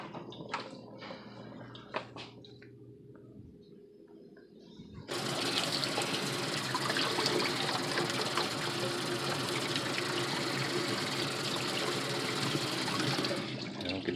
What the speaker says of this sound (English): I'm gonna dip this on in the sink, see if it worked.